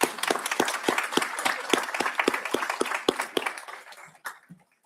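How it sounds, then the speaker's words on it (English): A small group of people at a school board meeting applauds for several students: scattered, distinct handclaps in a fairly quick, uneven rhythm that thin out and stop near the end. "We can give all 3 boys a round of applause."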